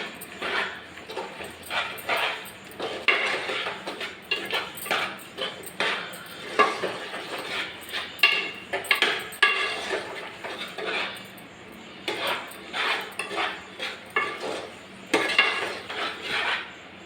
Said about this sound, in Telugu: ఇందులో కారం వేసుకుందాం. ఇప్పుడు బాగా కలుపుదాం.